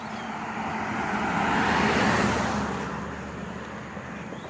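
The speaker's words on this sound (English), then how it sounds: "Have traffic coming, so we'll move to the side of the road." A car passes along a road during an early morning walk, swelling from a distance to a broad roar around the midpoint, then fading away.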